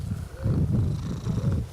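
A small cat purrs close by in a soft, rhythmic rumble that rises and falls with each breath, with no talk over it.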